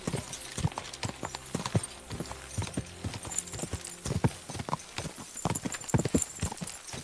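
A horse's hooves clip-clop in an uneven, moderately close rhythm of hard knocks, with no talking over them.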